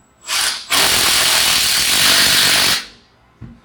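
A power tool drives and tightens a bolt on a Rhino post driver body, one loud continuous whirring burst of about two seconds after a short rev, then stopping, with a faint clunk afterward.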